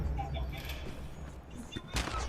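Gunfire in the video game Fallout 76: several muffled bursts of shots, faint and somewhat distant, scattered across a short stretch of game noise.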